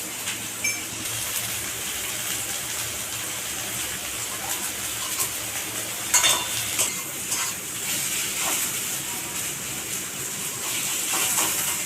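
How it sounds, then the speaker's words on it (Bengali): Cumin seeds temper in hot oil alongside frying onions, a steady sizzle running throughout with repeated stirring scrapes and a few clinks of a utensil against the pan, moderately loud and without speech. "আমি এখন জিরে ফোড়নটা দিয়ে দেবো।"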